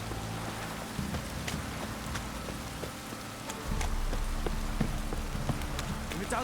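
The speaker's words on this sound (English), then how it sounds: "If it don't stop raining, my arse will rot off." Steady rain pours in The Witcher 3: Wild Hunt, a dense hiss of drops on the ground that runs throughout, with faint clip-clop and scattered ticks mixed in.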